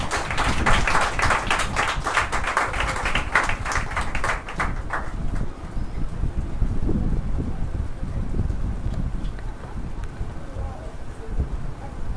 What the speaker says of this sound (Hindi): आइए जोरदार ताली परमेश्वर दास को।